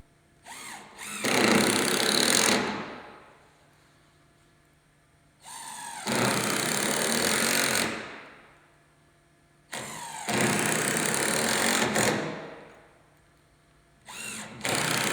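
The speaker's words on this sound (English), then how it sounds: "put the remaining screws through the baseboards into the posts" A power tool drives screws through gazebo baseboards into the posts in three loud, close bursts of about two seconds each, separated by near-silence, with a final burst starting at the end.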